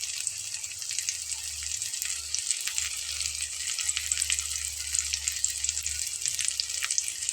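An eggplant snack fries steadily in a pan, a continuous crackling sizzle at moderate volume with no voices.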